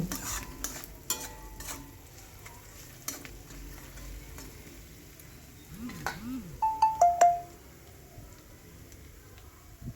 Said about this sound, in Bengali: দিয়ে ভালো করে আমি মশলাটা কষিয়ে নেব